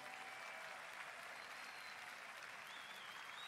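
Steady, dense applause from a large commencement audience honoring families of international students, a continuous even wash of many hands clapping at a distance with no breaks.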